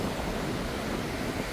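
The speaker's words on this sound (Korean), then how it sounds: "아, 바람이 너무 많이 분다." Strong wind gusting along a seaside strait near Punta Arenas, roaring steadily and loudly against the microphone, with surf and waves washing underneath, no voices.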